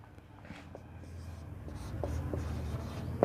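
A teacher writing on a board during an English adverb lesson, soft scraping strokes with a few sharper taps, close and fairly quiet over low background noise.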